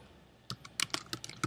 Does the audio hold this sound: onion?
no